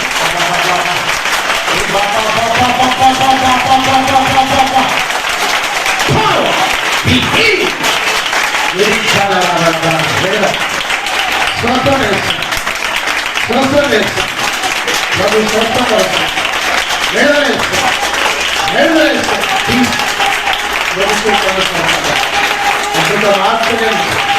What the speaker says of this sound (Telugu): చప్పట్లు కొట్టండి అందరు గట్టిగా.